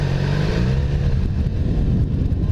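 A small-displacement inline-four motorcycle engine revs nearby, a throaty buzzing pitch rising and falling through low revs, loud and continuous with no talking.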